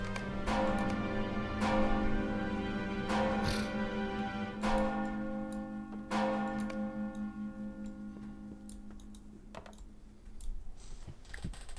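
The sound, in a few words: town bells ringing in the video game Lord of the Rings Online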